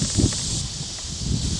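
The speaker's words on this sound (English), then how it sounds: "That little breeze right there, that's a gust front." A gusty breeze ahead of an approaching rain front sweeps through a mulched vegetable garden with tomato vines, rustling leaves in two swelling waves over a steady airy hiss, with no talking.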